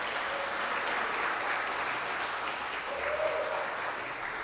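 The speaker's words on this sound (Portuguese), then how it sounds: "Você pode aplaudir o senhor pela vida do nosso pastor?" Church congregation applauds for their pastor, a soft, even patter of many hands from a distance, sustained throughout with a faint tonal murmur underneath.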